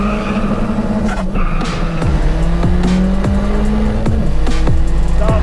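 Daewoo Matiz fitted with a new turbo, around 200 horsepower, accelerating hard on a drag run: a loud, close engine climbs through the gears, with repeated rising sweeps and sharp drops at each shift and steady roar throughout.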